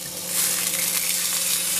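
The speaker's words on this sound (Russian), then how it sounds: "решила вот на сковородке ее обжарить на небольшом количестве масла" Fish frying in a pan in a small amount of oil, a steady close hiss and crackle of sizzling that runs unbroken throughout.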